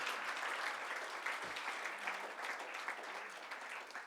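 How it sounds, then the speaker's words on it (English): Sustained applause from a lecture audience at a memorial lecture event, steady and fairly loud throughout with a dense, even texture and no speech over it. "A big round of applause one more time to PC Musthafa"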